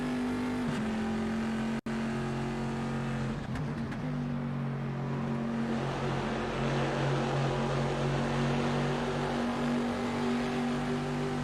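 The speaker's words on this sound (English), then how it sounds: "Look at how stable the car is through the S's." A GTE race car at Le Mans drones steadily through the S-bends, its engine note holding and shifting pitch as it accelerates, heard continuously without speech.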